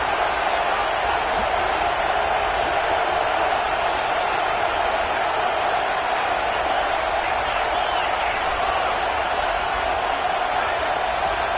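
Stadium crowd noise in a 2K football video game, a dense, steady roar of many voices filling the whole stretch without breaks, loud and continuous.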